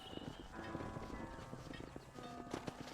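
Horse hooves clip-clop steadily across the ground in Red Dead Redemption, a quiet, even rhythm of hoof strikes at a ranch with faint game ambience underneath.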